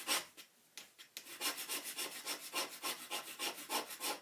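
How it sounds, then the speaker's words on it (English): Nutmeg grater scraping across lino, a quiet run of rapid rhythmic rasping strokes, a few irregular ones first, then a steady series of about sixteen close scrapes. "cheese grater, nutmeg grater, self-explanatory, and grating the lino"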